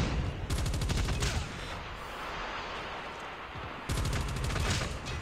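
An automatic gun in Call of Duty Mobile fires in rapid sustained bursts, loud and close, with a long rattling stretch, a short pause, then another burst.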